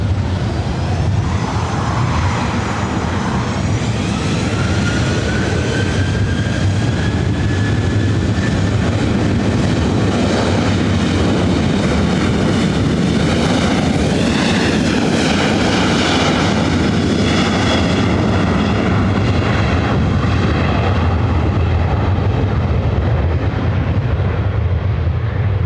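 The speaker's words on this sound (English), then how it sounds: "one of the last two remaining 737-700s" A Southwest Boeing 737-700 taking off from LAX, its jet engines roaring loudly and continuously at close range, with a rising whine and a rumbling, broad-band thrust that holds throughout.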